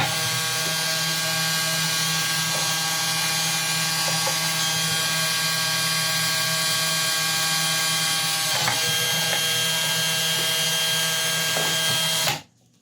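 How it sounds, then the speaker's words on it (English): A 4mm drill bores holes in material for a small homemade 40m HF antenna, producing a steady, loud mechanical whir that runs continuously before cutting off abruptly at the end. "I'm using a 4mm drill here."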